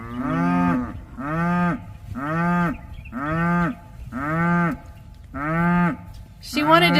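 A cow in a pasture moos again and again, six long, drawn-out calls in a steady rhythm, loud and close, with short pauses between them.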